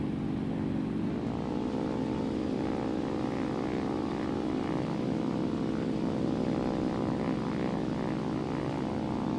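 Focke-Wulf FW-190 A5/U2 fighter in the War Thunder flight game, with a loud, steady, droning piston engine and propeller roar that shifts pitch slightly near the start and then holds constant, with no talk.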